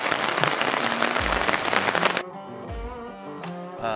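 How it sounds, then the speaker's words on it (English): Heavy rain patters steadily on a hammock camp in Pisgah National Forest, a dense, loud wash of drops that suddenly thins to a lighter, sparser drip partway through. "Raining."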